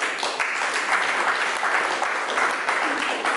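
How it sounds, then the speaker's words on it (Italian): An audience claps steadily at a commemorative event in Italy, a dense, sustained round of applause that stays loud throughout. "Un applauso a Duilio Donando."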